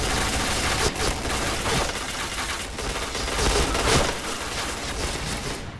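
Rapid gunfire rattles through the online shooter Point Blank, dense bursts layered with sharp individual shots. The firing is loud and continuous, with a few stronger cracks standing out from the barrage.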